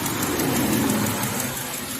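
A Honda CR-V engine with two failed injectors idles with a continuous low mechanical rumble, heard up close, with a faintly uneven throb running through the steady drone.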